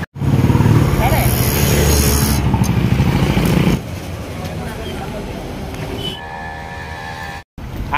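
Vehicles rumble past loudly at close range on a road, a broad roaring wash that drops off partway through, followed by quieter traffic and a brief higher whine.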